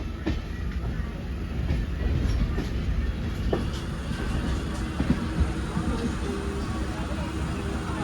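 A passenger train runs steadily from inside a crowded general class coach, its continuous low rumble and rail clatter filling the whole stretch, with people talking faintly in the background.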